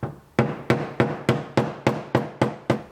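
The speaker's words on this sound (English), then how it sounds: "that hammering allows us to get a shallower angle on the roller" A hammer strikes a fender roller wheel to set its angle, landing nine sharp, evenly spaced metallic blows in a steady rhythm, close and loud with no talking.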